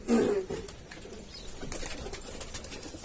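Kasni pigeons coo in a loft, one low throaty coo rising clearly at the start and then fading into softer rustling and faint background cooing.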